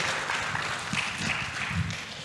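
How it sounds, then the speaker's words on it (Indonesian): Audience at an Indonesian business talk on profitable, sustainable companies giving a round of applause, a steady wash of moderate clapping throughout, with a few voices faintly mixed in. "Kita beri tepuk tangan sekali lagi untuk Mbak Maria dan Mas Joshua."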